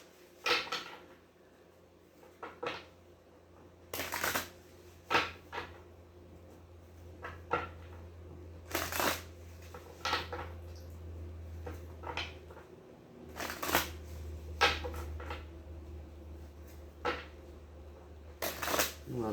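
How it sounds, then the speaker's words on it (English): Tarot cards being shuffled by hand: a series of short, fairly quiet riffling bursts spaced irregularly, close up, over a low background hum. "that was a really crappy shuffle"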